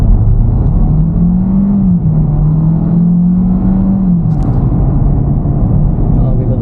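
A 2024 Kia Seltos with all-wheel drive makes a casual acceleration run in traffic. The engine drone climbs steadily and then settles into a loud, close, continuous hum inside the cabin.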